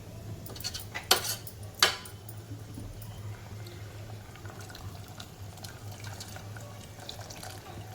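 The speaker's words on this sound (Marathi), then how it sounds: "जशी आपल्याला भाजी पाहिजे तशी आपण पाणी ओतून घ्यायचं" Water splashes and runs into a metal pressure cooker with sprouted moth beans, with a couple of sharp clinks of cookware near the start, then a steady low pour.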